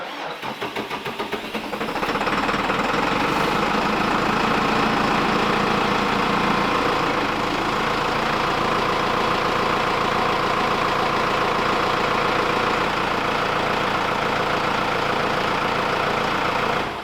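The diesel engine of a Krpan CSKZ 4218 firewood processor cranks briefly, catches and settles into a loud, steady, close idle in freezing cold, running unbroken to the end.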